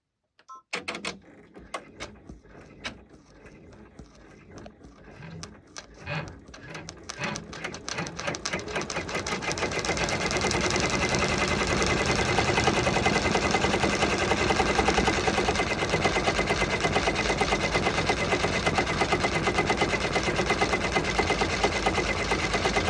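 An embroidery machine sews a satin stitch onto plush fabric for a starfish cuddle blanket, starting with sparse clicks and then running into a loud, steady, dense mechanical rattle that continues without pause.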